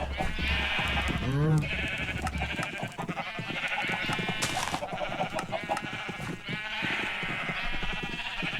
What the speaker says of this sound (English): I can hear lots of sheep.